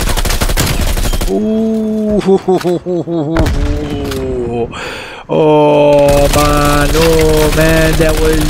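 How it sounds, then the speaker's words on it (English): Bulldog submachine gun bursts in a shooting video game on the Cartel map, loud rapid fire and impacts repeating in short volleys, with a player talking over the action. "Now I'm using my Bulldog submachine gun."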